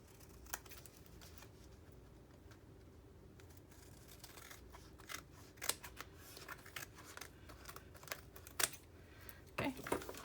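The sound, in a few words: scissors cutting off excess wallpaper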